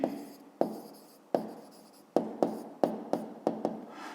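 Pen strokes on paper while working a fifth-grade math exercise: about nine crisp, separate scratching bursts, each fading quickly, close and clear with no talking.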